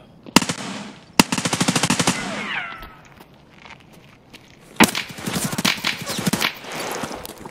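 Bursts of rapid automatic gunfire in a video game, two sharp volleys early on and a longer ragged burst later, separated by quieter game sounds and a brief whine, loud and close.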